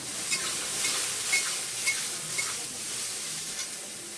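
Vegetables for shukto frying in hot oil one batch at a time, giving a steady, close hiss of sizzling with faint stirring ticks and no voices.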